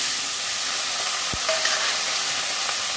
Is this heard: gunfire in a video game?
no